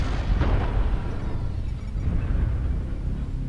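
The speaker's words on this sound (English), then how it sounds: "Artillery strike online." An artillery strike in MechWarrior Online lands as a dense, rumbling explosion, a sustained loud low roar of blasts filling the few seconds with no pauses.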